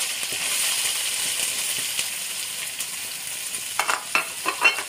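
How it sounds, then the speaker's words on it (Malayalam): Chopped onions drop into hot oil where mustard seeds have already popped, for a chicken curry; a steady broadband sizzle runs throughout, with sharper crackles and stirring scrapes building toward the end, close and with no talk. "കടുക് പൊട്ടി നമ്മൾ അതിലോട്ട് അരിഞ്ഞു വെച്ചിരിക്കുന്ന സബോള ഇടുന്നുണ്ട്."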